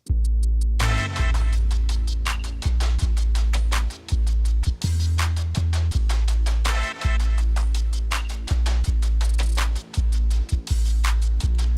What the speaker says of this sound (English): listening to the bass and the percussion layers together, they sound like this